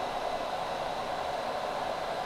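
A hair dryer blows in a backstage dressing room while a singer gets ready, a constant, even whooshing hiss of air with no break or other sound over it.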